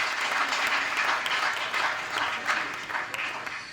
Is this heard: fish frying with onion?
no